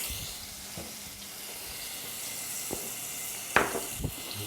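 Garlic, chili powder, cumin and cinnamon sizzling in a hot pan, a steady close frying hiss broken by a few soft scrapes and clinks of stirring near the end.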